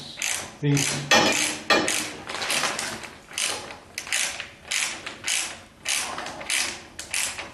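A ratchet tightening sway bar bolts on a 1976 Corvette during a restomod: repeated close mechanical clicking strokes in a steady rhythm of short bursts, with a brief word spoken at the start.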